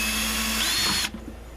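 A power drill whines loudly for about a second as it bores through a single layer of material for a homemade bee feeder, then cuts off abruptly, leaving a faint rattle.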